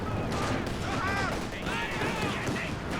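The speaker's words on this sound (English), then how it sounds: "Double Katyushas." Katyusha rocket artillery fires in the strategy game Company of Heroes 2, with a rapid crackling salvo and whistling launches over battlefield noise, partly under a commentator's voice.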